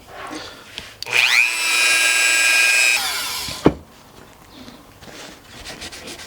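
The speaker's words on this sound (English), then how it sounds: "Get some polish on the frets and hit it with the Dremel." Dremel rotary tool polishing guitar frets, a high steady whine that spins up, holds for about two seconds, then winds down, close and clear, followed by faint handling sounds.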